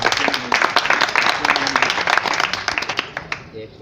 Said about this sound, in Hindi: इसके लिए मैं चाहता हूं तालियां बजाकर स्वागत करें